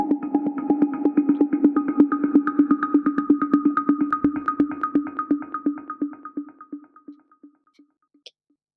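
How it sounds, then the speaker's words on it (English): A rhythmic synth riff from a minimal house track pulses in steady repeated notes with a low tone and a higher sustained line, gradually thinning out and fading toward the end. "we have the main kind of synth that plays every 8 to 16 bars in the"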